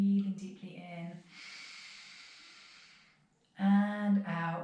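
A slow, deep breath drawn in during a yoga flow, soft and airy for about two seconds, framed by a calm voice giving instruction before and after.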